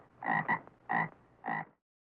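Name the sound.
frog croaking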